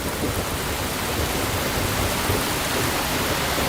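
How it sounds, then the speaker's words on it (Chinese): Heavy rain pouring down in a dense, steady hiss, loud and unbroken throughout with no voices. "没事没事，雨好大。"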